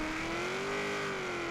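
Engine of a 1972 Ford Falcon XA GT-HO in Forza Horizon 3 drag racing, a loud sustained high-rpm drone whose pitch rises slightly, then holds steady.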